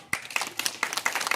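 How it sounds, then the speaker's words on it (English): Students clapping at a school morning assembly, a short burst of scattered, uneven claps from a group, fairly close and moderately loud, lasting just over a second. "Clap yourself."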